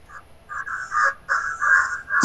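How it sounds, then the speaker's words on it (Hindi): A crow caws outdoors near trees, several rough calls in quick succession, fairly close and clear against a quiet background. "किसके घर इतना बढ़िया पंछी की आवाज़ आ रही है भाई"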